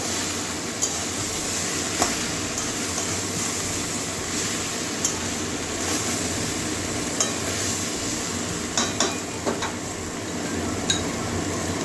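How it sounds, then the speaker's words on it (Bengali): Spices and chilli powder sautéed in a pan for a pea curry, giving a steady, close sizzle with frequent stirring scrapes and light clinks of a metal spoon against the pan. "এবারে মশলার সঙ্গে ভালো করে কষিয়ে নেবো"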